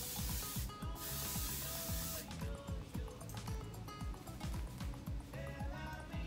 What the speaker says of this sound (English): extra strong hairspray from Davina